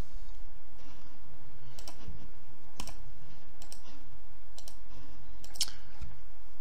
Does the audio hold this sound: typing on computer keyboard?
yes